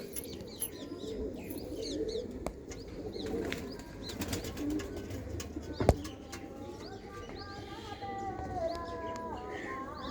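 A pair of red pigeons, a male and a female, coo softly over steady background ambience, with scattered chirps, a brief flutter and one sharp knock near the middle.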